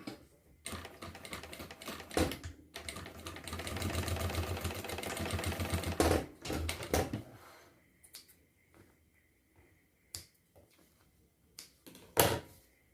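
A sewing machine stitching backpack fabric, with a sustained rapid stitching run in the middle, short bursts before and after, and scattered clicks and knocks between pauses, close and clear with no talking.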